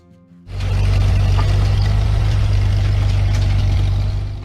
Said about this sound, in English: the steady roar of the Ford 8N engine